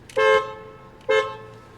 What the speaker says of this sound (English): Here's how the horn sounds in the GLC 300.